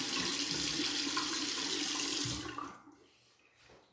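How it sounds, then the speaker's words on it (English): Tap water running into a sink while a shaved head is rinsed, a close, steady splashing rush that stops abruptly partway through, leaving faint drips and quiet. "So I'm gonna rinse off my head now."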